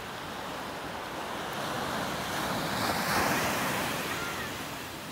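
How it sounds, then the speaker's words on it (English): Ocean surf washes onto Adgaon Beach at Velasagar, a small fishing village shore, as a continuous roar of breaking waves swelling midway, with wind buffeting the microphone and no voices. "So here we have Velasagar. This beach is called as Adgaon Beach."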